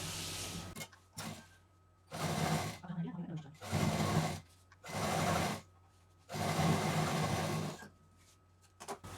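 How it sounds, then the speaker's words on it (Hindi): A sewing machine stitching piping onto a handmade fabric duffel bag, running in five or six steady bursts of a few seconds each, loud and close, with short pauses between runs. "लाइन पर हमें इसकी सिलाई करनी है"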